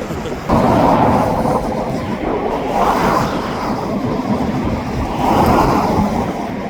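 Steady, loud rumbling roar of CNR freight train cars rolling by close at hand, a continuous broadband clatter that swells and eases without pause.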